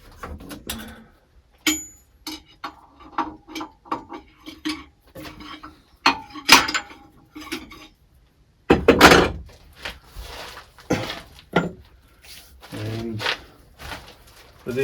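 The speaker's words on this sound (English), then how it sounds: "Just knock that spare drive out." Spare drive knocked out of a Vicmarc chuck on a wood lathe: a run of sharp metallic taps and knocks at uneven intervals, close and fairly loud, with a few heavier clunks and rattles near the end.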